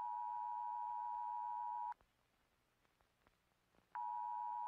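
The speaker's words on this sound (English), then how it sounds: "They issued an emergency action notification." Emergency action notification tone in the horror game Backrooms: Unbounded: a loud, steady electronic tone plays for two seconds, breaks off for two seconds of faint clicks and rustle, then comes back at the same pitch.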